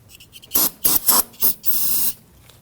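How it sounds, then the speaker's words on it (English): Spray solvent sprayed onto the master cylinder reservoir cover of a 2009-2017 Volvo XC60, four short loud hissing bursts followed by one longer spray, close up. "We're going to continue by using some spray solvent"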